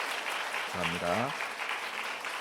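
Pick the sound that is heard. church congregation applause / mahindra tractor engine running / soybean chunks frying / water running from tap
church congregation applause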